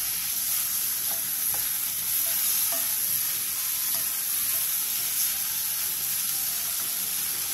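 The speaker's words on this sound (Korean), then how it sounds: "그 다음 양파를 넣고 양파에 숨이 죽을 때까지만 볶아주세요." Onions are stir-fried in a pot for a pork kimchi stew, giving a steady, close sizzle with faint scraping stirs scattered throughout, and no talking.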